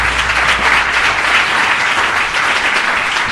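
An audience at a talk on ethical and successful careers claps loudly and steadily, a dense, sustained round of applause filling the room.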